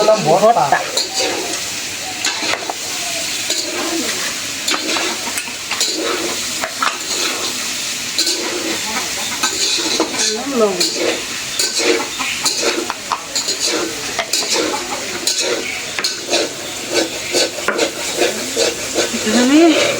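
Chanda fish mash lightly frying in a pan, a steady sizzle with frequent scraping stir strokes throughout, fairly loud and close.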